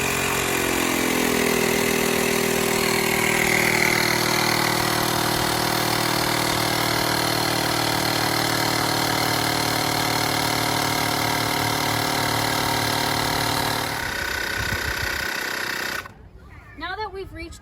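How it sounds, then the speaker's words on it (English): A portable electric air pump inflates a car tire up to 32 PSI, giving a steady, loud buzzing drone for about fourteen seconds before it shuts off, followed by brief handling noises. "Now that we've reached our 32 PSI, we're gonna unscrew the air pump here."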